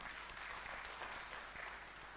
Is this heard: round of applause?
yes